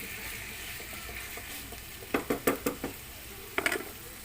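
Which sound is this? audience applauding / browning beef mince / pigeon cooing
browning beef mince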